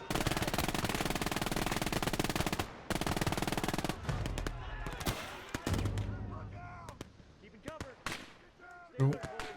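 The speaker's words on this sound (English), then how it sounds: "Can you really fire that gun? They were reloading it." Gunfire in the video game Gates of Hell: a long stretch of rapid automatic bursts, then scattered single shots and distant battle sounds fading out.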